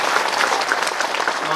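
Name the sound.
audience applause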